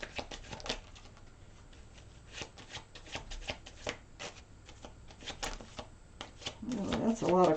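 Tarot cards being shuffled in quick, repeated riffles and soft flicks, close and fairly quiet, with a person speaking over the shuffling.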